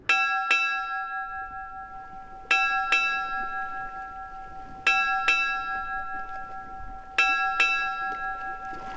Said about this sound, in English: Eight bells is heavenly sound.